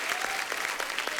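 Short burst of loud audience clapping on a comedy show set, a dense steady patter lasting about a second.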